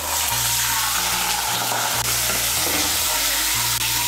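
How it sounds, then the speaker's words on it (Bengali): Ginger paste frying with a little water in a pan, giving a loud, continuous close sizzle and bubbling hiss with a steady low hum behind it and no talking. "এর মধ্যে দিয়ে দেবো সামান্য একটু জল, যেন আদা বাটাটা না ছিটকোয়।"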